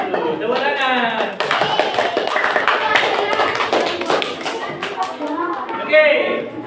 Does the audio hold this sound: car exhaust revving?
no